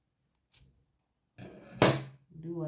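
Scissors snip through crochet yarn, giving a short close crisp cut after a few faint handling rustles, followed by a soft tonal rustle.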